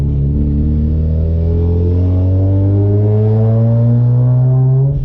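A Wolf Pac-built convertible car on a new motor with a new turbo revs loudly and steadily, its deep engine note climbing gradually in pitch, close and continuous with no voices.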